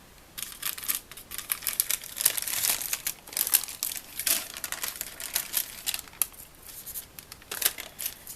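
Scissors cutting paper for an art journal, close and quiet crisp snips and rustles in an irregular run, with paper crinkling between cuts.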